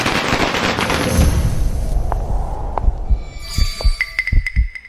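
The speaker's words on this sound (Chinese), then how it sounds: "我放個鞭炮，給大家沖喜" Firecrackers are set off at a family celebration: a dense, noisy rush gives way to a quick string of sharp, close pops and bangs near the end.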